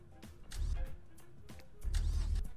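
A car engine in the Roblox game Greenville cranks twice without starting, each low rumbling attempt lasting about half a second before dying off, with no voices.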